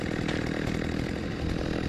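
Loud, continuous chainsaw roar from a video game, Saints and Sinners 2 Retribution, running steadily up close with a slight rise and fall in engine pitch throughout.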